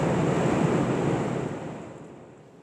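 Kumho Road Venture AT all-terrain tires on a Toyota Tacoma make a broad, steady road roar, loud at first and fading smoothly over a couple of seconds as the truck passes on pavement.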